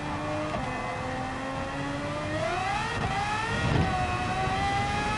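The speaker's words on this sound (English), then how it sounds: "I can hear the car spinning." A race car engine in a video game whines steadily, its pitch sliding up and down as the car spins, with a continuous mechanical drone underneath.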